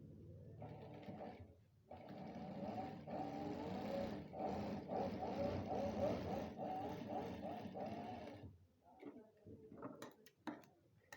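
A sewing machine runs a stitch along a sleeve, a faint whirring motor hum in one long burst that stops and starts briefly near the end, heard quietly and up close.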